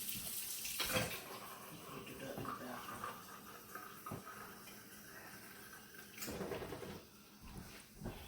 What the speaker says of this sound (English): I'm gonna get a half a cup of water and put inside of my meatloaf.